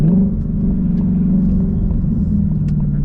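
A 2015–2023 Ford Mustang GT engine rumbles low and steady from inside the car as it downshifts, a deep close droning tone with a slight rise and dip in pitch.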